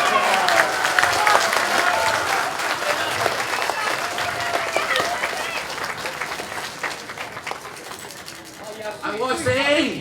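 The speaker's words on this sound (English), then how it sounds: "Applause for her, okay?" Crowd at an outdoor protest rally in Hong Lim Park applauding, a loud sustained clatter of many hands that tapers off, with a voice talking near the end.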